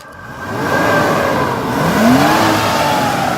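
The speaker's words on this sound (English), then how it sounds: "Give it a rev, Albert" A car engine revs up, its pitch rising and falling as the throttle is blipped, loud and close with no talking.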